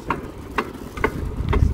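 An engine idles slowly and roughly close by, giving a low rumble with four evenly spaced ticking knocks about half a second apart, alone without talk.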